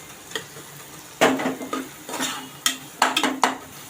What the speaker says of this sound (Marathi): आता वाल मिक्स करून घेऊया मसाल्यामध्ये